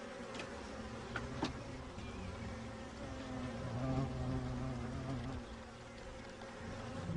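A honey bee colony buzzes in a steady, quiet, close drone of many wings, swelling slightly midway, with a couple of brief clicks and no speech.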